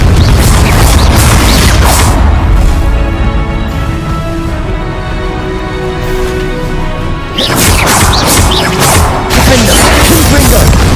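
Confringo fire-blast spell explosions in Hogwarts Legacy video game, loud close booming blasts with crashing debris, a lingering rumble in between, then another burst of explosive crashes near the end.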